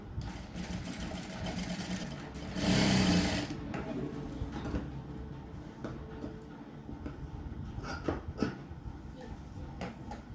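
A sewing machine hems a blouse with a long loose straight stitch, humming and whirring steadily up close with one louder fast run. A person talks over it.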